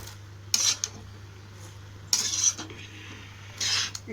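Cabbage and vegetables for chicken fried rice stir-fried in a pan, three short scraping stirs with clatters of the utensil against the pan over a steady low hum.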